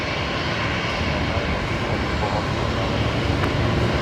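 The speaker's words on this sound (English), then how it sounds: "We've got the Embraer here, which is just beginning its takeoff roll" An Embraer jet at Brisbane Airport starts its takeoff roll at night, a steady broadband engine roar heard from a distance, continuous and even throughout.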